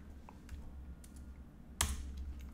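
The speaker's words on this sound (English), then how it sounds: "So press T on the keyboard" A single computer keyboard key press clicks once near the end, sharp but quiet against a faint room background during 3D modeling work in Maya, with no speech.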